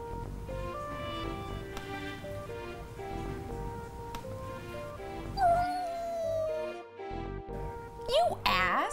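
Kittens meow in high, wavering cries from a video playing on a phone, with a soft music bed underneath and a few rising squeals near the end.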